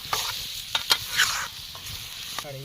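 Spices being stirred into food in a pan while cooking, with soft scraping stir strokes and a light sizzle running underneath, a few sharper clinks of the spoon, fairly close and quiet.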